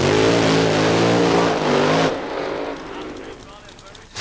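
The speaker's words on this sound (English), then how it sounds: "there's the burnout for Pete Barnett." Drag racing car doing a burnout at Santa Pod in 1992, a loud continuous engine roar with revving harmonics that drops after about two seconds into rougher, fainter rumble, with a commentator talking over it.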